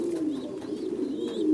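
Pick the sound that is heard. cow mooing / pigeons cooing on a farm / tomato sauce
pigeons cooing on a farm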